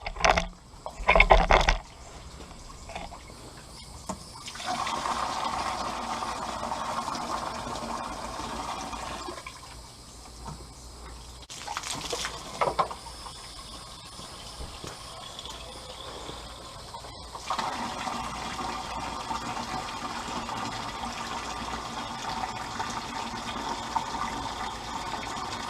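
Water rushes steadily through the radiator of a Willys Jeep with an L134 engine during a flush after oil was found in it, a continuous gushing flow with a few louder surges and no talking.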